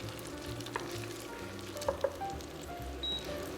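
Garlic lightly browns in a pan, a quiet, steady sizzle with a few faint clicks and stirring sounds close by.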